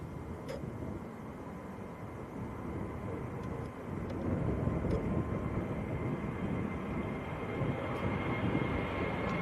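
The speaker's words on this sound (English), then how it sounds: "The A320 Neo of Welling to Barcelona on the roll" An Airbus A320neo bound for Barcelona rolls down the runway at Manchester Airport for takeoff, a distant rumbling roar that grows noticeably louder about halfway through and keeps building.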